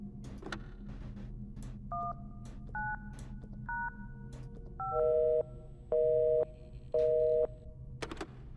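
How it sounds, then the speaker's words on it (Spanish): In the horror game Luto, a telephone number is dialed as a series of short, distinct two-tone keypad beeps, followed by three longer, louder repeated hang-up tones with gaps between them. "Sonó que me colgaron, o sea que no sirvió"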